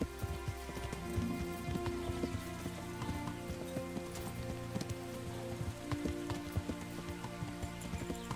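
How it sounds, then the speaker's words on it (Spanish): Rain begins falling in the medieval game Kingdom Come: Deliverance, a soft steady patter of drops spread across the scene, with scattered louder taps and what sounds like hoofbeats clip-clopping underneath. "Ya se pone a llover"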